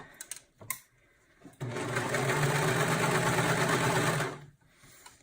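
A sewing machine runs in one steady, fast burst for about three seconds while stitching a car trash bag, with a few small clicks and handling knocks before it starts and a soft stop after.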